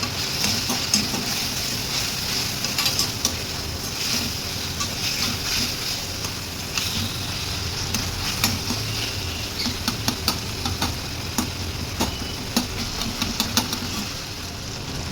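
Homemade garam masala sautéed in a pan gives a steady, close frying hiss with scattered light scraping clicks from stirring, continuous throughout with no voices.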